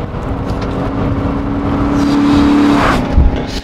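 A Mercedes-Benz 500E W124 accelerating hard from inside the car: a loud, steady engine drone and road roar that build gradually, with a sustained tone and a short thump near the end.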